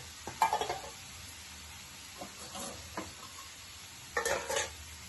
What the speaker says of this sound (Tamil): ஒரு லெமன் சைஸ் புளி அதை ஊற்றிக்கலாம்